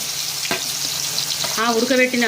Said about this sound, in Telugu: ఇప్పుడు కొంచెం వేయించుతా